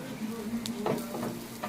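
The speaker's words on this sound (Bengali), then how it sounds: "এখন আমি রসুনটা আদাটা একটু ভেজে নেব।" Garlic and ginger fry in oil with a gentle, low sizzle and a few brief stirring scrapes, quiet and close over a faint background hum.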